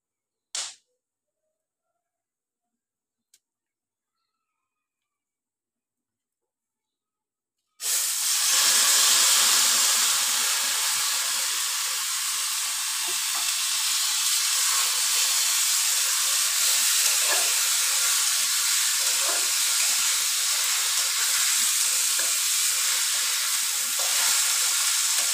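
Drained, dried rice frying in a hot pan for khichuri, silent at first apart from a brief click, then a loud steady hissing sizzle that starts abruptly and carries on alone to the end.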